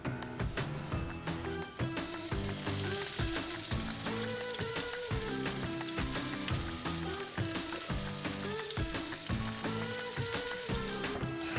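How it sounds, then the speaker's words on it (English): Carrots, peppers and garlic sauté in oil with a steady, crackling sizzle that stays fairly even throughout, mixed with faint background clatter. "Let's saute these vegetables."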